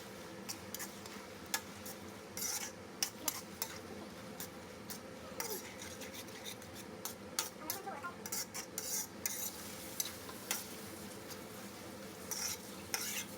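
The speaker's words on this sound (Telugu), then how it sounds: "ఇప్పుడు డైరెక్ట్గా మనం ఈ గ్రేవీలో వేసేసుకుందాము. ఇప్పుడు ఒక్కసారి బాగా మిక్స్ చేసుకోవాలి." A utensil stirs cooked pasta into gravy in a pan, giving repeated soft scrapes and light metallic clinks over a faint sizzle at close range.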